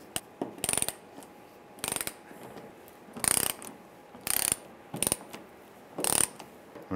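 Ratchet wrench loosening the bolts around the top of a fuel pump module on a 1995–2001 Ford Explorer fuel tank, with several separate bursts of rapid clicking separated by short pauses, close and clear with no talking.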